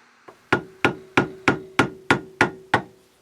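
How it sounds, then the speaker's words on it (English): Hammer lightly tapping the stuck, rusty bendix gear on a Tecumseh starter (33290E), ringing metallic taps: one soft tap, then eight evenly spaced sharp strikes close up, each with a short resonant ring, no talking. "And now I'm hitting this gear also very lightly."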